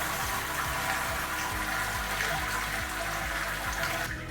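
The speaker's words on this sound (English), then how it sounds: "we can remove that grain basket and let it start to drain." Wort drains from a lifted grain basket after the mash out while brewing an ordinary bitter, a steady, fairly loud rush of splashing liquid running continuously with no talking.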